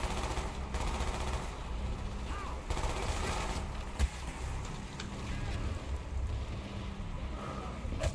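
Sniper and other gunfire rattle through a Call of Duty Black Ops match over dense, continuous battle noise, with a sharper crack standing out midway and shouted voices mixed in.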